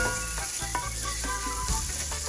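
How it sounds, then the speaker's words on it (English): A chicken enchilada rice mixture with cumin stirred in a hot pan, giving a steady sizzle broken by repeated scraping strokes of the spoon, close and clear. "I'm going to mix it well. Make sure nothing sticks to the bottom or"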